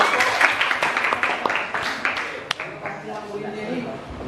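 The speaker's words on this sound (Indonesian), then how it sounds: "Oke, tepuk tangan untuk kelompok." A classroom of students claps for a group, a lively burst of applause that is strongest at first and then thins and fades.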